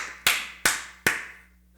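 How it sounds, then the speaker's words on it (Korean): Three sharp, evenly spaced hand claps, close and crisp, each with a short ringing decay in a quiet room. "여기에 박수를 보냅니다"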